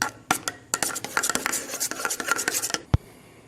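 Cream and condensed milk are mixed in a bowl for a fruit dessert, quick rhythmic scraping and rubbing strokes of a utensil against the bowl, close and brisk, ending with a single sharp knock, no talk.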